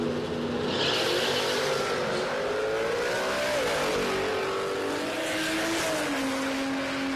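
A 1938 Chev ute and a Falcon ute drag race at Palmyra Raceway, engines revving hard with rising and falling pitch through gear changes, a sustained loud mechanical howl heard from a distance with no voices.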